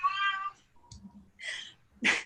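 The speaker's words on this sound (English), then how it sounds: "Sorry about my cat." Domestic cat meows several times in short, close bursts: a clear drawn-out meow, then quicker, rougher calls, in a quiet room.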